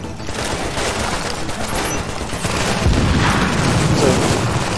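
Gunfire in The Division video game, a dense continuous barrage of shots and booms that stays loud throughout and builds slightly toward the end, with no clear talking.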